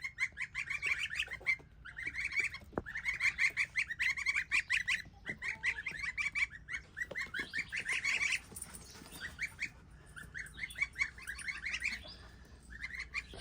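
Young goslings on a farm chirp and peep in rapid, overlapping bursts, a steady flock chorus close by with brief pauses between clusters of calls.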